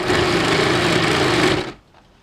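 A sewing machine stitches piping onto a petal-style hand sleeve, running in a loud, steady, close rattling whir for about a second and a half before stopping abruptly into quiet.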